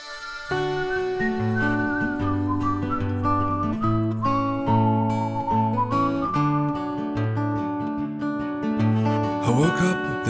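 Whistled melody opens a song introduction, backed by accordion chords and jingling coins, playing continuously at steady volume with a bright, sustained tune over a rhythmic bass pattern.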